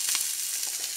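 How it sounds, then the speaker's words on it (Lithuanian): Sea bass fries on a grill in organic oil, giving a close, steady sizzle with faint crackles and no voices. "labai gražiai mūsų žuvytė kepa"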